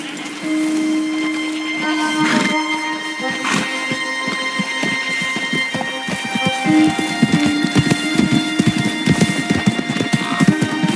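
Horse hooves clip-clop in the Red Dead Redemption II video game, an uneven rhythm of close, fairly loud hoof strikes that grows busier toward the end, with tonal music-like background.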